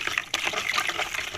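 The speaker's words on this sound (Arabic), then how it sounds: "وهنحط كمان معلقتين خل اهي، وندوب." Two spoonfuls of vinegar are poured into a homemade pickle mixture, giving a short, close, steady splashing trickle of liquid with no talking.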